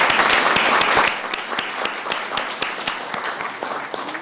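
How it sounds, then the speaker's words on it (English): Audience applause fills a city council meeting room in Columbus, Georgia: dense, close clapping that starts loud and thins slightly toward the end, with sharp individual claps standing out. "Let's give them another round of applause."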